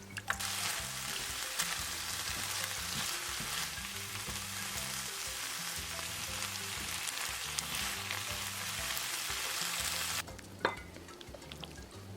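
Vegetable broth sizzles in a pan, a steady close hiss with occasional stirring scrapes, cutting off near the end to quieter clatter.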